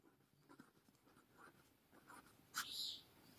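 Faint scratchy strokes of writing on a board, soft and intermittent under a quiet room, ending with a brief sharper squeak near the close.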